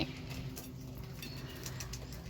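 Pet pigeons in a loft give low, soft cooing, a steady murmuring drone close by with faint ticking and shuffling over it, and no one talks.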